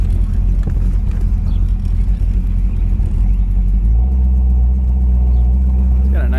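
A 1934 Ford street rod with dual exhaust idles at about 550 RPM, giving a loud, steady, deep rumble close by with a slight change in tone midway.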